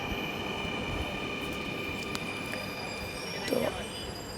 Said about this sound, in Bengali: এইটা একটা মেট্রো রেল মতিঝিল থেকে আসতেছে